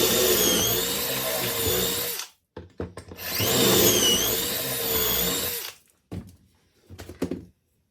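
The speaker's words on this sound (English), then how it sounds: "So let's get drilling." Two long bursts of a power drill whirring into wood while drilling pocket holes for a shoe rack, close and loud, each followed by short clunks and handling noises.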